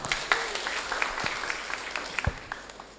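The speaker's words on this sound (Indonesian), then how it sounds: "Tepuk tangan untuk Mas Bupati." An audience at a land certificate handover event in Kediri regency, Indonesia, claps for the regent, a moderate patter of applause with a few sharper individual claps, steady through the short stretch.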